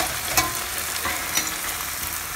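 Potato patties frying in sunflower oil, a loud, continuous close sizzle with a few crackling pops and no talking.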